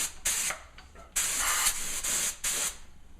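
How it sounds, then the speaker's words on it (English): An air-assisted airless sprayer lays a coat of finish on the side of a kitchen cabinet in four or five sharp hissing bursts separated by brief pauses. "with the same air-assisted airless, we'll give it a coat around the side"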